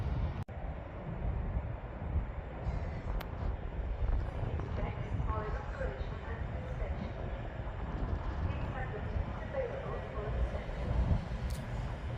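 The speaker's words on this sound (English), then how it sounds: "Avanti West Coast to London Euston. This train is class 221 and it's gonna stop here obviously" Avanti West Coast class 221 train bound for London Euston arriving at Birmingham International station, a continuous low rumble and wheel noise with a sharp click near the start and faint distant talk.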